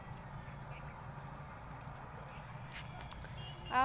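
Faint duck quacks rise over a quiet, low background hum, with a louder burst of noise right at the end.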